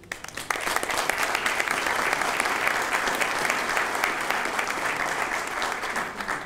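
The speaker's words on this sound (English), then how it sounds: "Let's give him a round of applause." Sustained applause from a crowd, steady and fairly loud throughout, with dense clapping that starts abruptly and holds without pause.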